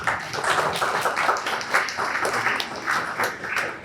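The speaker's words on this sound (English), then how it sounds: "Let's give them a round of applause." An audience at a broadband economy panel event gives a steady round of applause, many hands clapping evenly at a moderate distance throughout, without speech over it.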